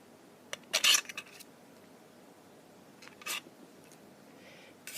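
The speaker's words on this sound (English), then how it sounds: "So I'm going to cut the piece as I want it, the shape I want it" Blade cutting a polymer clay piece into shape: a few short, sharp scraping and clicking cuts, close and fairly quiet, separated by pauses, with no talk.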